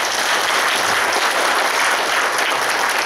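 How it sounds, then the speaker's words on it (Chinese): Sustained applause fills a meeting hall, a loud, dense, continuous clapping from a large audience throughout, with no speech over it. "要给大家掌声鼓励一下。"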